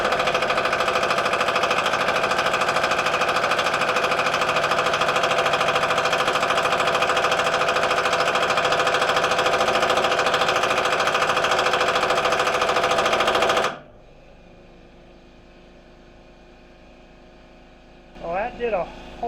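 A power tool on a Chevrolet Blazer hammers loudly and without pause for about thirteen seconds against a stuck bolt, then cuts off, leaving a quiet background and a brief sound near the end.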